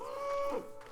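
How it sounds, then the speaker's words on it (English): A cow in the game Rising World gives a single low, drawn-out moo, moderately close and heard alone without talk. "I love the cows."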